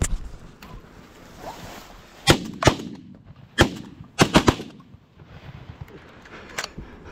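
Shotguns fired at geese during an evening hunt, several loud sharp blasts, some alone and some in a quick cluster, with faint outdoor rumble between them.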